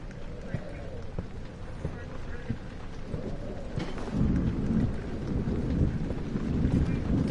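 Steady rain pours in the Rainy Hall level of the Amnesia game, with low rumbling thunder swelling louder in the second half as a continuous stormy bed.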